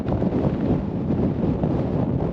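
Cold wind whipping across a mountain summit, a steady, loud roar buffeting the microphone without a break, with no voices.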